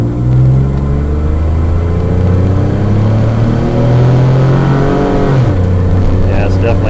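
Car engine with the catalytic converter loosened from the exhaust manifold, throaty and loud as it revs and pulls up through the gears, the pitch climbing and dropping at each shift, close and continuous with a voice talking over it.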